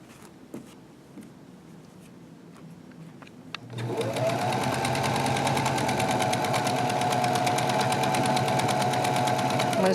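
Sewing machine stitching the waist hem casing of pajama pants. After a few seconds of quiet handling clicks, the motor starts and runs as a steady, close, continuous whirring hum to the end.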